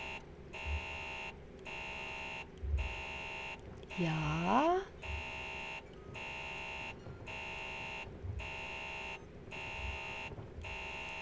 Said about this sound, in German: Der Alarm geht überhaupt nicht mehr aus.